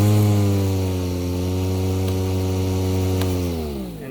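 A Milwaukee lawn mower runs at a steady idle, with its motor held on by a clamp. The engine drone is loud and constant and drops slightly near the end, with no talking over it.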